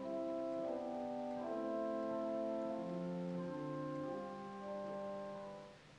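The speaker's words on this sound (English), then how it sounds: "Let's start with the 8-foot viola." A soft, string-toned 8-foot viola stop on a pipe organ sustains slow, overlapping chords that shift gently, steady and mellow before fading at the end.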